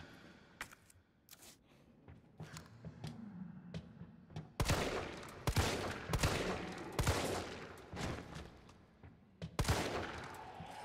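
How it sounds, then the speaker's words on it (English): Repeated gunshots in the video game Resident Evil 3, scattered single cracks at first, then louder bursts and sharp reports spaced a second or so apart against a quiet game backdrop. "I'll let you have some fun with the shooting here"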